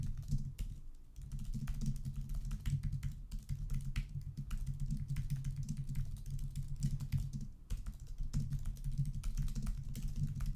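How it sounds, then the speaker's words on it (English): Rapid typing on a computer keyboard, a dense steady stream of fast keystrokes running close and continuous, with a low hum underneath throughout. "as you can probably tell, by the way I'm typing"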